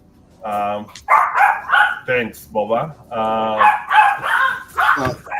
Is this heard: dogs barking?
yes